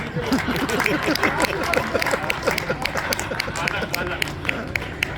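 An audience at a Holi Milan poetry gathering claps steadily in a dense, continuous patter of applause. Crowd murmur and voices sit underneath the clapping.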